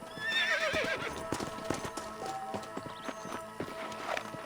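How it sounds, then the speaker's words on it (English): Horses in the Red Dead Redemption video game: a clear whinny at the start, then steady clip-clop of hooves walking close by, with scattered footstep knocks and no talk. "leave the horses here and follow me."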